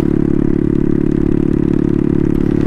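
Turbocharged Honda Grom with a CBR engine swap pulling steadily in third gear, a loud, dense and continuous engine drone heard close up without any talking.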